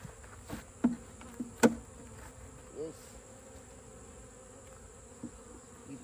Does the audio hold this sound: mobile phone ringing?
no